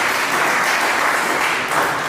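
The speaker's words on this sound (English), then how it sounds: "We will clap for them, our support staff" Dense, steady clapping from a crowd at a school cultural day, many hands together in a continuous close wash of applause.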